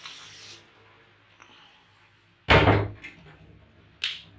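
Hot water from boiled spinach is tipped into a colander in a home kitchen, a sudden loud splashing pour that lasts about half a second, followed by a smaller clattering knock and a brief hiss.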